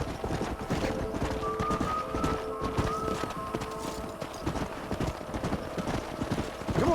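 Horse hooves clip-clop in the video game Red Dead Redemption, several horses moving at a steady walk with close, crisp rhythmic clops, a brief whinny and faint game sounds behind.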